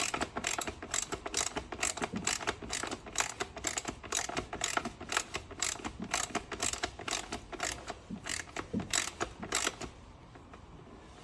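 Ratchet wrench tightening a bolt on the DISA valve of a BMW Z4 E85 engine, a fast steady run of close, crisp clicks for about ten seconds before stopping into quiet.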